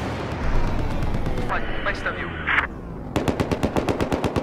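Battlefield 4 gunfire on a 64-player PS4 map: heavy explosive booms and blasts give way to a fast, evenly spaced burst of automatic shots, loud and close, with a player talking over the action.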